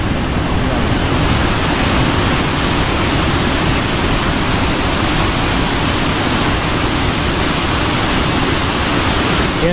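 A strong river current at a fishing spot, a steady, loud, unbroken rush of water that fills the whole scene with no voices.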